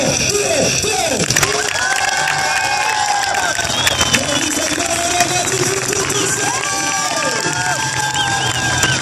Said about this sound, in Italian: se mi fate sentire l'applauso degno di nome